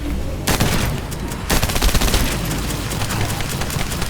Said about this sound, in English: Multi-cannons.